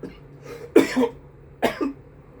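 Two harsh coughs, about a second apart, sound up close in an otherwise quiet space.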